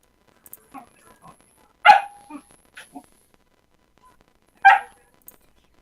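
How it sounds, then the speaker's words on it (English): A dog gives two sharp, loud barks a few seconds apart, separated by softer yips and small whimpering sounds, in an otherwise quiet setting. "I swear that dog sounds like someone pretending to be a dog"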